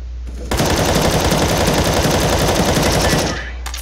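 Sustained automatic gunfire from Counter-Strike, a loud, dense burst of rapid shots lasting about three seconds, starting abruptly and fading near the end.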